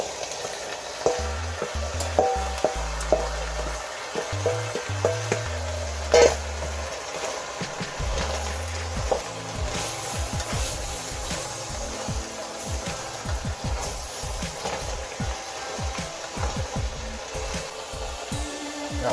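Vegetables dropped into a pan of browning beef, with a continuous close sizzle broken by frequent clicks and scrapes of stirring throughout and a few low thumps early on.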